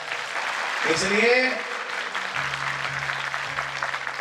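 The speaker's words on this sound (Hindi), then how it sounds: "एक बार जोरदार ताली बजाएं।" Audience clapping at a Bhagavat katha, a Hindu scripture recitation gathering, runs as a steady, moderately loud patter while someone speaks over it.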